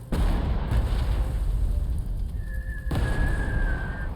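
Artillery fire in the Panzer Corps 2 wartime strategy game: a steady, loud rumbling barrage with a sharp booming onset, a renewed blast near the end, and a thin whistling tone crossing the middle.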